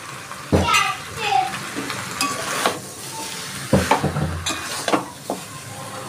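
Chicken pieces sizzle and fry in a pan for a Bengali chicken kosha, with repeated stirring scrapes and clanks at close range over a steady frying hiss; a voice briefly sounds in the background.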